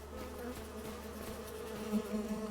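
Bees in the Farming Simulator 25 video game give off a steady, close insect buzz that holds a continuous drone throughout, slightly louder toward the end, with no talking over it.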